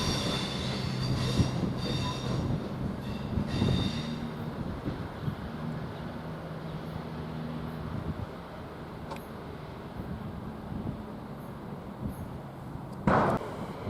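A former Avanti West Coast train at Coventry station rumbles steadily with rail noise and faint wheel squeal, a brief brighter screech near the end.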